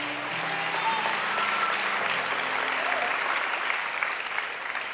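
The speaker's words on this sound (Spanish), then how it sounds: "Un aplauso." A large church congregation applauds steadily and loudly for several seconds, a dense continuous clapping with no voices standing out.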